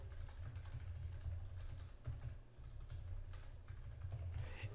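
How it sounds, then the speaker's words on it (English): Steady typing on a computer keyboard, with quick, fairly soft key clicks flowing in an uneven rhythm over a low hum, close and faint, with no voices. "I'm going to type in a justification."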